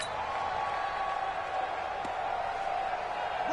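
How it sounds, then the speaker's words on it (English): Steady broadband crowd roar from a football video game stadium ahead of a big third down, a constant wash of cheering at moderate level with no distinct claps or voices standing out. "the crowd getting into it as we come up on a big 3rd down"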